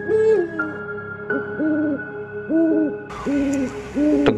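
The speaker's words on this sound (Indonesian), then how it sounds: "ditambah suara burung hantu yang menambahkan kehororan malam itu" Owl hoots at night, a sound effect with five evenly spaced two-part calls, loud and close, over a low steady background hum.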